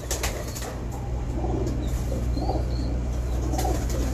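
A pair of pigeons coos in low rolling phrases while wings rustle and flap close by, set against a constant electrical hum.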